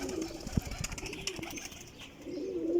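A young Sialkoti pigeon cooing softly in a loft of breeding pairs, a few low throaty coos with faint rustling, close by and without talk.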